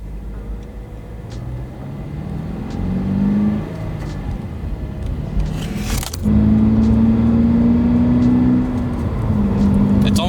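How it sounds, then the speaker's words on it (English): A Subaru BRZ engine revs up from a stop, rising in pitch and loudness as it accelerates, with a brief gear-change dip midway; steady close-up cabin sound throughout. "the BRZ is like widely known for how loud the motor or like the engine noise is in this car"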